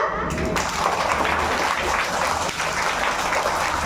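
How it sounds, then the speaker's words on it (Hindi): A crowd at a Guru Purnima gathering breaks into loud, dense applause that holds steady for several seconds. "जोरदार तालियां"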